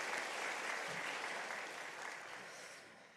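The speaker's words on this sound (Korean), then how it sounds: "하나님 앞에 영광의 박수 올려드립니다." A church congregation gives dense, sustained applause during a Sunday service. The clapping fills the space and tapers off gradually toward the end.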